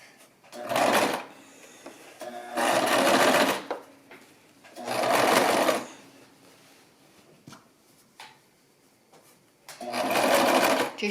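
A sewing machine stitches an envelope pillow seam in four separate bursts of roughly a second or two each, loud and close, with quiet gaps and small handling clicks between runs while the bobbin is nearly out of thread.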